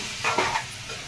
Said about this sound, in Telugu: ఈ టమాటా ప్యూరీ ముక్కకు పట్టేలాగా మనం వేపుకోవాలి